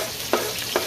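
Ginger dropped into hot oil in a pan with eggplant for Japanese simmered eggplant, giving a steady sizzle with two short, louder bursts of frying and stirring.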